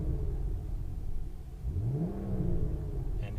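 A BMW 640i Gran Coupe engine rumbles steadily, then revs up in a rising sweep before holding at a higher pitch, heard close and alone without talk.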